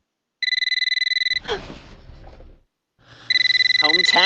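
Cell phone in the video game Eternal Darkness: a rapid trilling electronic ring bursts for about a second, pauses amid distorted noise and a voice, then rings again, loud and close.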